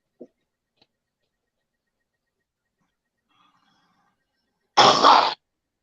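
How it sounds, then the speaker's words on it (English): Single harsh smoker's cough, a short loud burst near the end after a few faint clicks and near silence, close to the listener. "Smoking cough"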